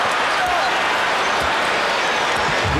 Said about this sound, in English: Hear the grumbling by this capacity crowd.